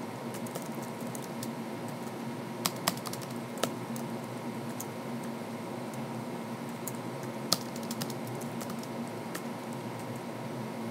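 Typing a C program on a computer keyboard: a continuous patter of soft key clicks with occasional sharper taps, steady and close over a faint background hiss.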